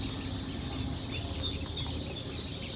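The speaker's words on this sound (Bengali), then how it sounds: "এই দেখেন অরিজিনাল হাঁসের বাচ্চা" A group of ducklings peeps and chatters in a faint, continuous cluster of small calls, close by and without any voices over them.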